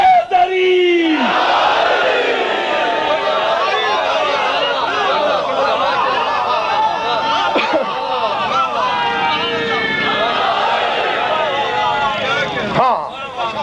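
A packed majlis audience led by a cleric roars back the slogan Nara-e-Haidri with raised hands, a loud surging wall of massed shouting voices that swells and repeats, close and overwhelming from start to finish.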